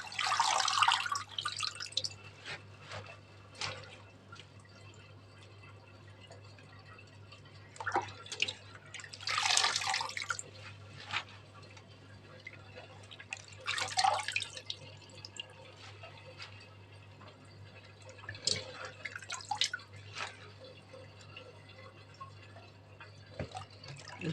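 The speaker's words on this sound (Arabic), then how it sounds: "نسيبه يتصفى في المصفى" Freshly washed chard sits in a colander, draining, with quiet intermittent drips and short trickling splashes of water, several bursts spread over a steady low background hum.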